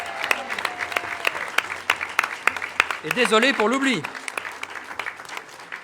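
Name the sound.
council applause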